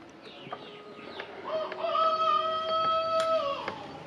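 A chicken calls out nearby, a rising, drawn-out crowing squawk with a few short clucks before it, standing out over quiet background.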